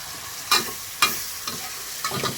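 Shrimp stir-fried with holy basil and pounded dried chili in a pan, heard as a few sharp scraping strokes of a spatula about half a second apart over a soft, steady sizzle, close and moderately loud, no talking.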